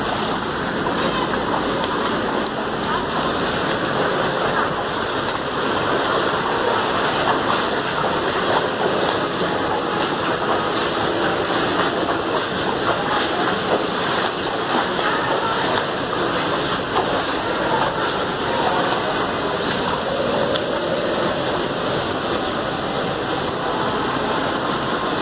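Sewage floodwater rushes outside a mosque gate in Karachi during urban flooding, a steady broadband wash of flowing, splashing water that runs unbroken and fairly loud throughout, with no clear voices standing out.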